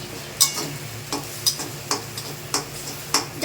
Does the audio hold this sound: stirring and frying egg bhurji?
yes